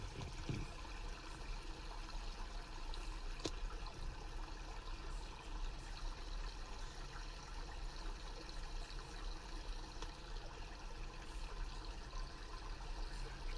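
A faint, steady trickle of a video-game creek with little waterfalls runs continuously as a soft, even wash of flowing water, with no voices over it.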